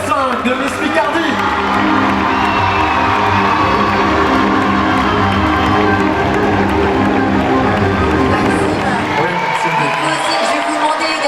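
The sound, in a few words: crowd cheering and applauding at a beauty pageant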